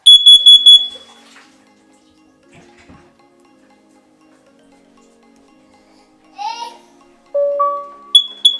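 A Google Nest Protect smoke and carbon monoxide alarm running its self-test, opening with a loud, piercing series of shrill beeps, then quiet before short chime tones and more sharp beeps near the end.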